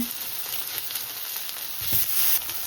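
Steady sizzling of precooked meat frying in a hot pan, a continuous crackling hiss that swells slightly near the end.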